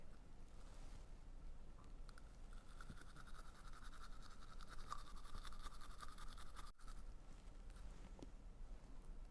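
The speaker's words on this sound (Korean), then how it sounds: "최대한 칫솔을 세워서 앞뒤로 쓸듯이 닦아주세요" A toothbrush scrubs teeth with short back-and-forth strokes, the bristles tilted upright against the teeth, giving a quiet, close, continuous scratchy rasp with no talking.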